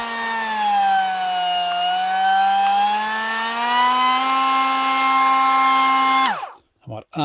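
A Mellif cordless multi-tool on a Dewalt-compatible battery hums steadily and fairly quietly, its pitch dipping and rising a little, then winds down to a stop near the end with a couple of brief knocks.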